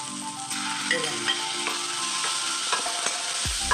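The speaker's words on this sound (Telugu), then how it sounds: "కొంచెం పచ్చివాసన పోయినంత వరకు అల్లం వెల్లుల్లి పేస్ట్ వేద్దాం" Ginger garlic paste fries in oil after green chillies and curry leaves for a salted vanjaram fish curry, with a steady sizzle and a few light stirring clinks, ending on a low thump.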